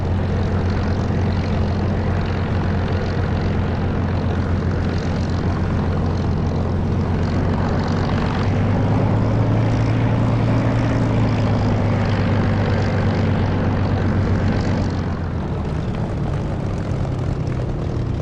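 A Spitfire's piston engine and propeller drone steadily in the DCS flight simulator while the plane is throttled back for a turn on the ground, a loud continuous low hum that shifts pitch slightly midway.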